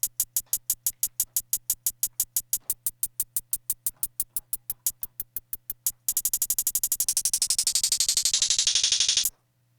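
A hi-hat roll made with the Hattricks plugin: sharp, evenly spaced ticks that speed into a dense buzzing roll whose pitch rises steadily before cutting off abruptly, loud and alone.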